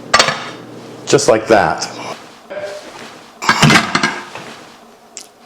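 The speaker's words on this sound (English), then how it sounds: "First, I'm going to put my platter on top," A cake pan clatters and clinks against a serving platter as a keto blueberry upside-down cake is flipped in a kitchen, a few sharp metallic knocks and scrapes close by, with someone talking over them.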